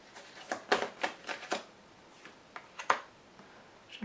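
Tarot cards are handled and laid out on a table in a run of crisp, separate slaps and flicks, several close together, then a pause and a few more, close and fairly soft with no voice over them.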